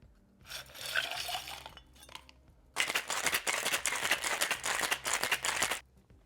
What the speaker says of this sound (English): Let's do the ice thing and shake this one up